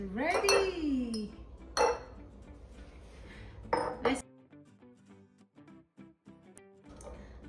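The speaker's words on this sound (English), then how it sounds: "I'm just gonna mix everything together" A spoon clinks sharply against a glass several times while juice for a morning detox drink is stirred, with bright separate rings followed by quieter scraping and faint stirring.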